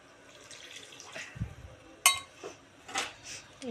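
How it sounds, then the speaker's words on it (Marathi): Water added to a pan of potatoes and peas being cooked into a home-style vegetable dish, a short splash and trickle among light clinks of utensils against the pan, fairly quiet and close. "यात आपण पाणी ॲड करून घेऊया।"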